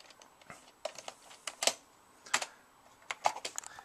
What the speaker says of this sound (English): If I type something from the 102,